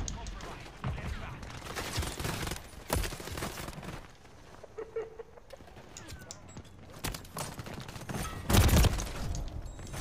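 Gunfire in Call of Duty during a haunting event, bursts of rapid shots and scattered single reports against game ambience, loud in places with quieter stretches between.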